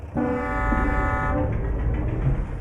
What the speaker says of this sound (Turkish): Bu da havalı korna.